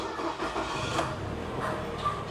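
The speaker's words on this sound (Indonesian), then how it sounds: "Saya akan nyalakan mesinnya." A 2008 Nissan Serena C24 engine starting, a brief crank and catch settling into a steady mid-pitched run, close and moderately loud.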